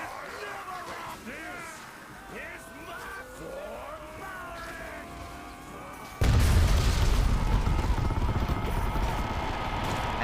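A bomb detonates in Chivalry 2 during a 32v32 competitive match, a sudden loud broadband blast that keeps roaring on as sustained battle noise, following a stretch of clashing combat sounds and a commentator talking.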